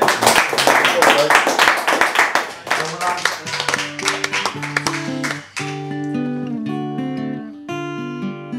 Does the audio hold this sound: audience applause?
yes